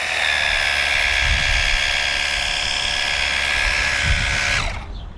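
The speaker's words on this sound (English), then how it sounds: "the motor is not that noisy, it's pretty tolerable. So that was on the high pressure setting" A Fanttik NB8 Flip portable pressure washer motor runs on its high pressure setting, a loud steady high-pitched whine with faint low thumps, cutting off abruptly just before the end.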